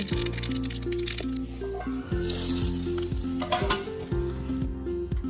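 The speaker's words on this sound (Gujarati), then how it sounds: "હવે રાઈ અને જીરાનો વઘાર ઉમેરીશું।" Hot oil crackles and sizzles loudly as mustard and cumin seeds pop in the pan, with a tune playing steadily underneath.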